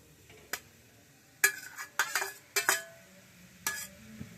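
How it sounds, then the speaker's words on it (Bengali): Grated coconut being stirred in a wok for patishapta filling gives a series of sharp metallic scrapes and clinks of a spoon against the pan, irregular and spaced, over a faint quiet background. "এবার নারকেলটা আমি ঢেলে দিলাম কড়াইতে"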